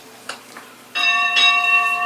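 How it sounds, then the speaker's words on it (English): Bright ringing fog bell tolling at the top of a tower, heard in the Mansions of Madness board game app, two sustained metallic strikes after faint taps, close and fairly loud. "A large fog bell hangs at the top of the tower."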